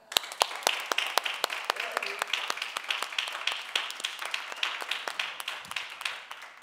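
A church congregation at a sermon claps in a steady rhythmic beat of sharp, evenly spaced claps, moderately loud, with faint voices underneath.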